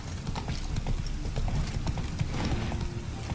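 Steady clip-clop of horse hooves at a walking pace in the video game The Witcher 3: Wild Hunt, continuous and fairly loud throughout, with no talking.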